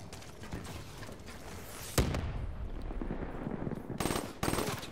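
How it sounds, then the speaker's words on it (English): Gunfire in Call of Duty: Black Ops 3 during a competitive match: sustained automatic bursts and rapid shots rattling continuously, with a sharp louder crack partway through and a renewed burst near the end, moderately loud and without talk. "There's a guy top window shooting me."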